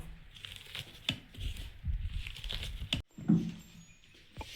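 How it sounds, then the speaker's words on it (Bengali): Raw onion with green chilli being rubbed and crushed with salt by hand, a wet crinkling, squishing patter with a few sharper tearing crackles, close and moderately loud throughout. "পেঁয়াজটা একটু নুন দিয়ে ডলে নেব।"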